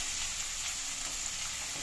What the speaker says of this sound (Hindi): जैसे ये लहसुन थोड़ा भुनना शुरू हो ना, देखिए भुनना शुरू हो गया है